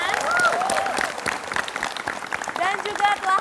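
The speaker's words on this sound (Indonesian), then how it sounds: "Kita berikan tepuk tangan." Applause from a television studio audience at an Indonesian talk show, steady and close, with broadband clapping running the full stretch and a few tonal accents layered over it.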